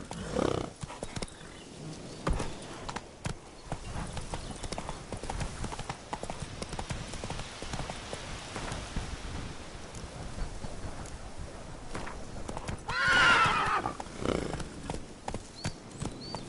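Horse hooves galloping in The Witcher 3: Wild Hunt Blood and Wine DLC, a steady, fast clip-clop rhythm running throughout, with a louder swell near the end that may be a whinny.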